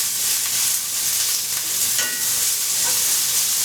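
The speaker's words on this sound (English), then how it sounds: "So we're just going to let these onions soften up before I add the carrots." Onions sautéing in a pan, a loud dense sizzle that holds steady and continuous from start to end, heard up close with no voices.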